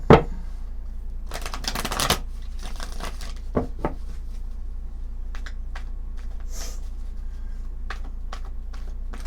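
Tarot cards riffle and shuffle in short rustling bursts with soft slaps between them, close by and fairly quiet, over a steady low hum, with no talking.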